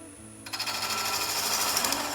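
A lathe chisel cuts into spinning wood while making captive rings, a continuous rough scraping and chattering that starts abruptly and holds steady at close range.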